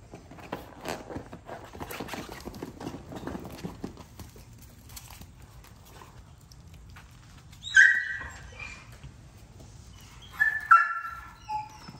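An XL Pitbull whines and cries in short high-pitched bursts, two clusters of yelps standing out over a low rumble of outdoor background noise.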